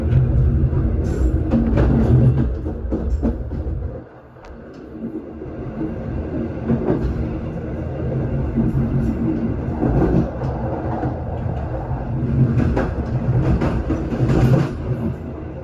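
The Sri Tanjung economy-class train rolls steadily along the rails after leaving Bangil station, with a continuous rumble and faint rhythmic clatter, close and loud throughout, with no voices.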